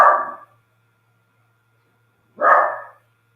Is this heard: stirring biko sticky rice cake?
no